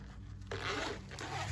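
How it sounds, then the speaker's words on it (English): Pencil case zipped shut, one quick close zipper rasp rising sharply and running about a second, heard alone over a low steady indoor hum. "zip this"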